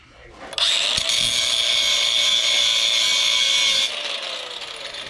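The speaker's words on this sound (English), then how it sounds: "I usually take a side grinder" A side grinder bites into brass scrap with a loud, steady high-pitched whine for about three seconds, then cuts off abruptly. Speech runs faintly in the background.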